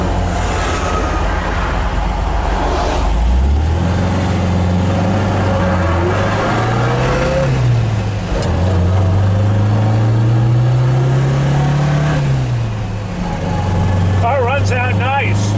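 A 1967 MGB GT engine pulls away on a road test drive, revving up through the gears with rising and falling tones while the driver talks over it.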